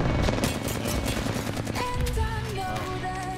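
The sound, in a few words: Flatline rifle gunfire in Apex Legends video game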